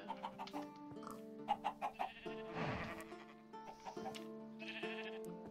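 Chickens clucking and bleating in the game TerraFirmaCraft, a series of short, tonal, bouncy clucks in quick bursts, heard close and fairly faint, with a brief rustling thump in the middle.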